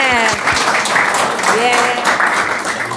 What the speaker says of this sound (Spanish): Un aplauso, bien.